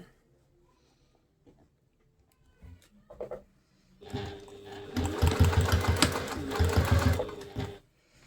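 A domestic sewing machine top stitches a quilted nappy pouch in one steady whirring run of several seconds, preceded by quiet handling and a few soft clicks.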